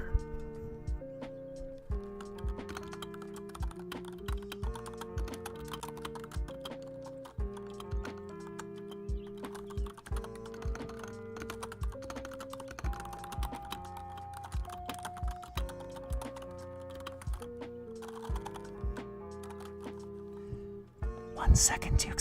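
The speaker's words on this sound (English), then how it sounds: "In fact, typing ASMR." Computer keyboard typing in ASMR style, steady rapid clicks and taps running throughout over a bed of sustained background music.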